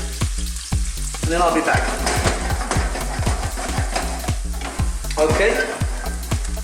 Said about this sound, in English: So let's cook this for a couple of minutes, soften those onions slightly